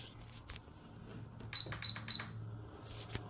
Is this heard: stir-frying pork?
no